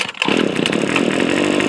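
A Hitachi grass trimmer engine is pull-started, catching after a brief rasp and settling into a loud, steady, close buzzing drone with no voices.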